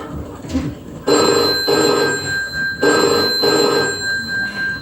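An old office telephone bell rings loudly and close, two long trilling rings separated by a short pause, each with a metallic rattle, with faint background noise before the first ring.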